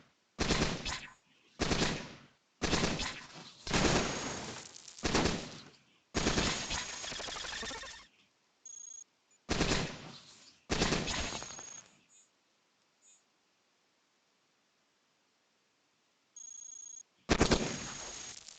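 Bursts of rapid automatic gunfire from the robot game Cogmind, several loud stuttering volleys in quick succession, then gaps of near silence with short blips before a final burst.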